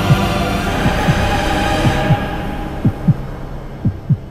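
A heartbeat pulse sound effect beats as evenly spaced double thumps, lub-dub pairs about once a second, deep and close over a steady low hum, with no voices.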